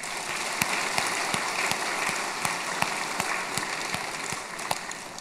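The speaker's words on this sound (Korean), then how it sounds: "우리 하나님께 영광의 박수 올립니다." A church congregation at a twentieth-anniversary thanksgiving service claps in a loose, sustained patter, many hands blending into a steady wash with a few sharper claps standing out.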